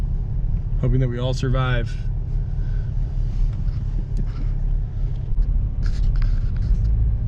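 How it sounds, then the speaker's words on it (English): A Subaru Outback fitted with new front wheel bearings rolls along on a test drive, a steady loud cabin drone and road rumble running throughout while a voice speaks briefly over it. "We're going for a test drive in the Subaru Outback with the new wheel bearings."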